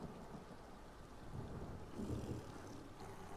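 Steady rain and a low rolling rumble of thunder from The Elder Scrolls Online fill the scene, a soft continuous patter with a deeper swell of thunder about two seconds in.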